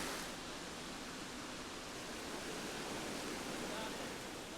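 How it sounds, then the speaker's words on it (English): A waterfall at Six Flags Over Georgia pours in a steady, broad hiss of falling water that holds constant throughout, fairly close and without pause. "they have a waterfall, absolutely beautiful"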